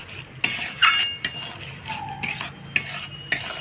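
A spoon stirs fried rice gravy seasoned with salt and green chili paste in a pan, with scraping strokes and sharp metallic clinks against the pan over a soft sizzle.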